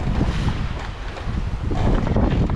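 A sailboat jibes under autopilot on the open sea, with steady wind rushing across the microphone and water washing along the hull throughout.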